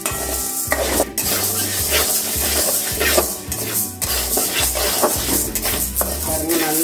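Curry leaves, chana dal and other ingredients dry roasting in a pan for curry leaf powder, with brisk, loud scraping and rattling stirs against the metal in a fast, steady rhythm, close and without speech.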